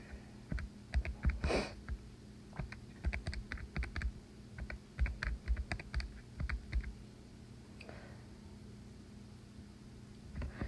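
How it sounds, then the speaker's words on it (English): Quick taps on calculator keys while entering numbers, coming in short irregular bursts of clicks at close range against a faint steady background hum. "So our calculator does not get confused when we type that in."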